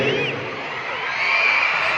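A large crowd at a Chanyeol fanmeet in Manila screams and cheers loudly, a dense wall of high-pitched shrieks swelling in the second half with no break.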